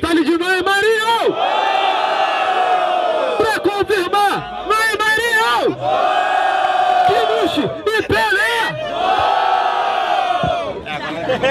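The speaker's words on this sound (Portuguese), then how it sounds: "Faz barulho quem nessa batalha preferiu a rima e o freestyle de Noé Marinho." A crowd at a freestyle rap battle in São Gonçalo, Brazil roars and cheers in repeated loud bursts, with whoops and yells rising and falling over nearly continuous noise.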